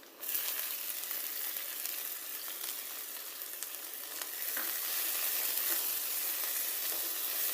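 Crushed onion sizzles in hot oil in a pan for a drumstick leaves fry, a steady bright crackling hiss throughout with faint scraping of a spatula, close and without speech.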